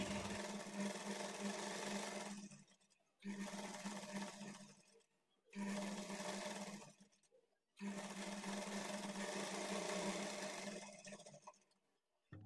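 A sewing machine stitches the edge of a silk blouse in four close, steady whirring runs of two to three seconds each, separated by short pauses.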